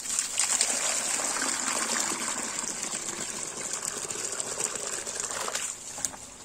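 Water gushes and trickles out of a pool sand filter during backwash, a steady, close splashing flow with a faint mechanical hiss running throughout.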